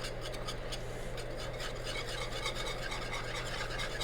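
A whisk scrapes steadily around a skillet of lumpy brown gravy, a continuous close rasping stir over a constant low stovetop hum, with no talking.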